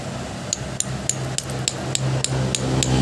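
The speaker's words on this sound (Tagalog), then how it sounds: "Kunting pukpok, tapos lagay." A hammer repeatedly taps a nozzle onto a carwash hose, giving about a dozen sharp, evenly spaced metallic knocks, close and loud over a steady background hum.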